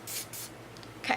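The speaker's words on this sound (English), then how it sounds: "I'm going to spray it on" A Pure Liquid Veil 4-in-1 spray foundation gives two short, soft hissing bursts in quick succession, followed by a faint third puff and a brief sharper spritz near the end, all quiet and close.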